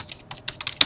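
A quick burst of typing on a computer keyboard, several crisp close key clicks in uneven rhythm ending with a sharper final keystroke.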